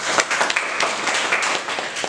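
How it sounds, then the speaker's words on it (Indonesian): Brief burst of clapping from a small group, quick irregular claps close by and fairly loud. "Kita beri tepuk tangan."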